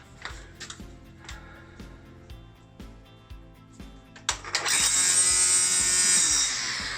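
Cordless electric string trimmer, first quiet ticking and clicks, then the motor spins up into a loud steady high whine close by for the last few seconds.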